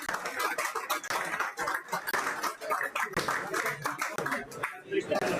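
An audience at a Galician spearfishing club championship gives a burst of applause, dense clapping that runs throughout and fades toward the end, with voices talking over it.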